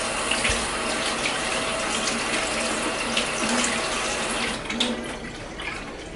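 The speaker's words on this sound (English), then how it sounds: "To rinse my hand off a little bit here." Water runs steadily from a kitchen tap while a hand is rinsed under it during taco preparation, a close, continuous splashing rush with slight shifts as the hand moves through the stream.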